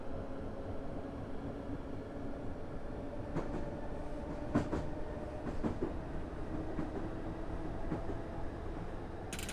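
A train in Train Simulator 2017 runs on the St Albans Abbey branch line with a steady rumbling roll and occasional faint rail clicks, continuous and fairly quiet.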